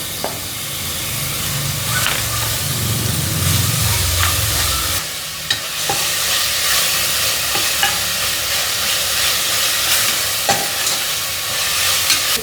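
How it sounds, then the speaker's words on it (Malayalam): Crushed ginger and garlic sizzle steadily in hot oil in a pan, a continuous frying hiss with occasional stirring clicks and scrapes, fairly loud and close, with no talking. "ഒന്ന് വാടി വരുമ്പോൾ നമ്മുടെ ഇഞ്ചിയും വെളുത്തുള്ളിയും ചതച്ചത് ചേർക്കാം."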